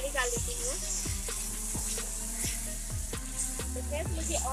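Onion-tomato masala for an egg curry sizzles in a hot pan while a spoon scrapes and stirs it, giving steady frying crackle with rhythmic scraping strokes, close and clear.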